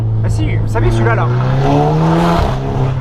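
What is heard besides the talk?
tuned car engine and exhaust revving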